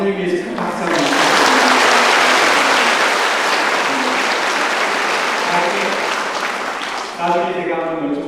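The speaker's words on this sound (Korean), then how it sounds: "저 자매님 위해서 큰 박수 한번" Audience applause fills a church Holy Spirit seminar hall, sustained and loud for about seven seconds before tapering, with a few voices rising at the end.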